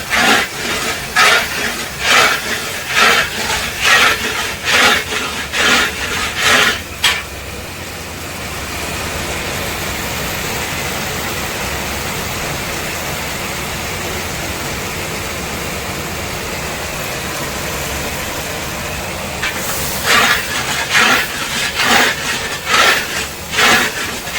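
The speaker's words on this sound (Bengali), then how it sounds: "মশলাটা নাড়া দিয়েই যাচ্ছে নাড়া দিয়ে ভালো করে কষে নিতে হবে" Spice masala being fried in oil in a pan for a festive chorchori vegetable dish, heard as bursts of rhythmic scraping stirring at the start and end with a steady, loud sizzling hiss in between.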